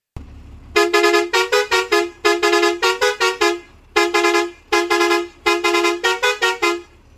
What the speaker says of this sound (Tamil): ஏறு ஃபுல்லானது ஹார்ன் அடிச்சு காட்டிடுறேன்